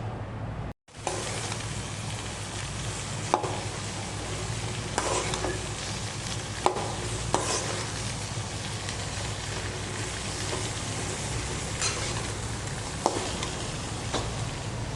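Mango pieces are stirred into hot oil with chili powder for a mango pickle, making a low, even sizzle with occasional sharp spoon clicks against the pan and no speech.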